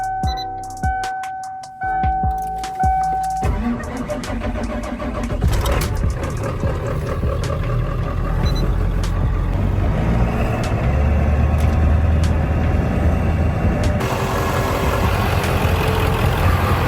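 A Ford F250 diesel truck engine cranks with a few sharp turns, catches, and settles into a loud, steady, rattling idle that continues unbroken to the end.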